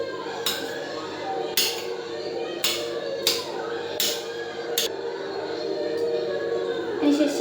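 A knife chops green chillies on a board after onions have been crushed, six or seven sharp, evenly spaced taps close by over a low kitchen background.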